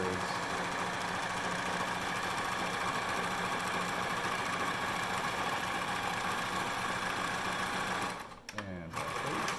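A sewing machine stitches a simple fabric face mask, running in a steady, close mechanical whir with rapid needle rhythm. Near the end the motor pauses briefly, with a quick stop-and-start, then resumes.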